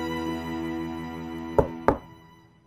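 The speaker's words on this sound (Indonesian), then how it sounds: "mengasumsikannya sebagai suara ketukan di jendela" Two sharp knocks on a window, spaced about a third of a second apart, sounding over a sustained eerie musical drone.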